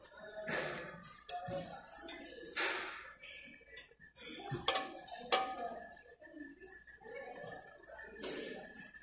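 Cooking pots and steamers are handled in a shop, with scattered metallic clanks, taps and scrapes at close range, under faint background chatter.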